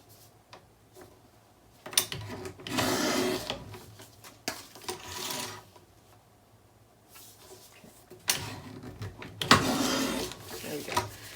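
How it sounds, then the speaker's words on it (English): A paper trimmer cuts paper down to 4 by 6 in a few separate passes, each a rasping slide of the blade lasting a second or two, with clicks and small handling noises between. "I'm trimming it down to 4 by 6"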